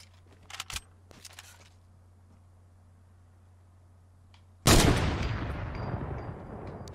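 Gunfire in a shooter video game from a duos match: a quiet stretch with a couple of faint clicks, then a sudden loud burst of shots that rings and decays over the last two seconds.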